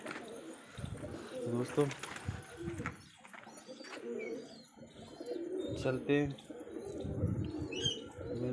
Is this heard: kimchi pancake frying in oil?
no